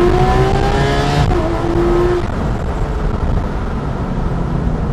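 Loud Porsche GT3 RS engine revving hard, pitch climbing then settling into a rough, throaty growl, heard up close with no talking.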